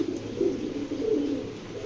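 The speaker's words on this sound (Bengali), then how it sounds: "একটা ব্ল্যাক চেকার নর, ঠিক আছে, কার্লুস লাইনের একটা ব্ল্যাক চেকার নর" Black checker male pigeon of the Karlus line cooing in a steady low, throaty murmur, fairly close and continuous, with no talking over it.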